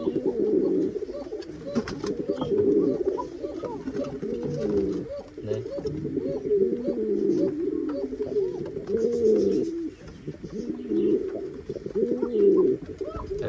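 Pigeons coo repeatedly in low, throaty, rolling calls, several overlapping nearby, with soft rustling in the background.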